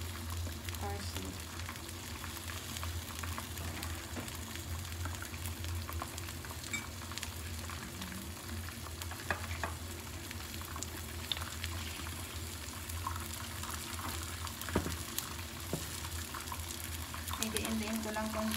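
Eggs fry in a pan with tomato, onion and parsley, making a continuous, even sizzle and bubbling with small pops, and a faint voice can be heard in the background.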